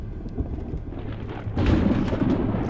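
Thunder rumbles during a heavy storm in the horror game Pineview Drive, a low roll building and then swelling louder, with rain hissing in the background.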